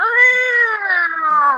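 A single drawn-out cat meow, used as a tabletop role-playing sound effect, rises and slowly falls in pitch over about a second and a half, loud and clear against a silent background.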